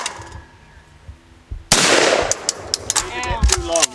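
One loud shotgun blast fired at a clay target during family target shooting booms outdoors, trailed by ringing echo and scattered clicks, with people talking faintly before it.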